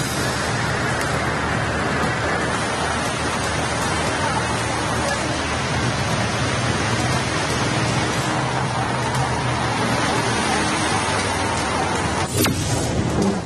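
Heavy monsoon downpour in Mangaluru, a dense, steady, loud roar of rain with no breaks, filling the whole stretch with constant hiss and no voices.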